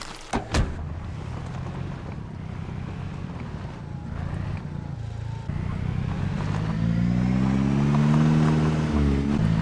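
In Project Zomboid, a car in decent condition drives through a town while wrecks are cleared; its engine hums steadily, rising and revving louder toward the end, with a sharp knock near the start.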